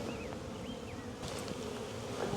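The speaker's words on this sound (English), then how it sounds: "The cover has bees all over the top" A dense, steady hum of honey bees swarming around a hive cover, close and continuous, with individual bees whining past now and then.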